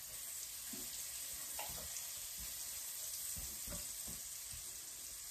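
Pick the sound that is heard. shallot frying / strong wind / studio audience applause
shallot frying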